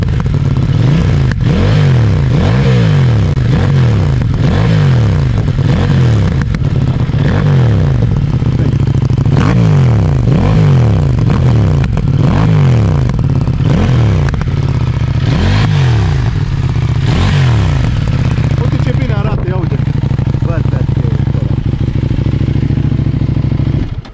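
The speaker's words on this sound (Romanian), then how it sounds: "Fiți atenți la toba asta, stop, de dă bangs, de dă bangs, de pops and bangs, așa se zice, nu?" A CFMoto 800NK motorcycle, built on a KTM 790 base, revs hard and repeatedly up close, its loud exhaust crackling with pops and bangs between rising engine sweeps before settling to a steady idle.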